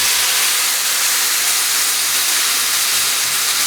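Vermouth hits a hot pan used for sautéing mushrooms for creamy pasta, giving a loud, steady, close hiss that fills the whole moment without pause.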